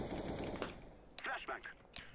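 Weapon fire in the CS:GO video game, loud rapid gunshots up front, then scattered further shots and game noises with faint voices in the background.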